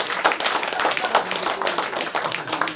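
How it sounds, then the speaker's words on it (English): Clapping from an audience at a political speaking event, fairly close and loud, with individual hand claps standing out in an uneven rhythm rather than a smooth wash. "Yeah, you can clap"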